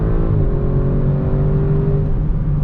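A 2021 Audi RS6 Avant's engine pulling on throttle around a race track, a loud steady drone heard from inside the cabin with no break.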